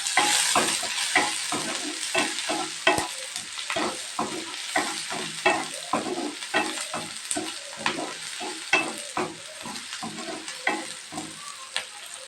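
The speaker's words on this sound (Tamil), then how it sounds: "50 கிராம் வெங்காயம் சேர்த்துக்கலாங்க. சேர்த்து நல்லா கிளறிக்கலாங்க." Onions sizzle steadily in a hot pan while a spoon stirs them in repeated scraping strokes, close and moderately loud, with no talking.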